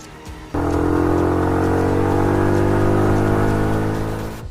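A motorbike engine starts abruptly after a brief pause and holds a loud, steady drone with rising harmonics as it pulls away, fading slightly at the end.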